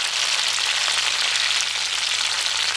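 Chopped green chilies and finely chopped garlic fry in a pan for eggplant curry, making a loud, steady, hissing sizzle with no pauses.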